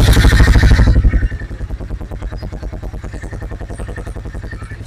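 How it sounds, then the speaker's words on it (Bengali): A Royal Enfield motorcycle engine fires up and settles into its characteristic thumping idle, loud and close, with steady rhythmic pulses continuing after the initial start-up roar. "রয়্যাল এনফিল্ডের গাড়িটার একটু বিসমিল্লাহ বলে সাউন্ড একটু শুনবো আমরা"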